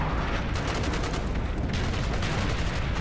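Sustained heavy gunfire in Call of Duty: Black Ops, a loud, dense roar of rapid automatic shots and blasts with no pauses.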